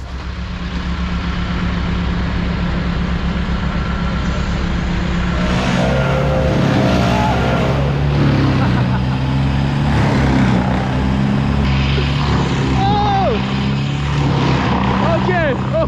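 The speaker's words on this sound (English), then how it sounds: "I'll hand you this blower, Jake, and you can blow yourself in circles" A blower runs with a steady, loud, whining engine drone through the whole stretch, at a tree-on-house cleanup job. Voices talk over it.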